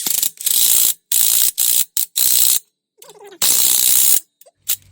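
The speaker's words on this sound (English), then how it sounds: "go ahead and put that pinch bolt back in on the ball joint and go ahead and tighten it" A ratchet tightens the ball joint pinch bolt on a 2013 Nissan Pathfinder with loud, close, rapid clicking in several separate bursts, broken by short silences and a soft knock near the end.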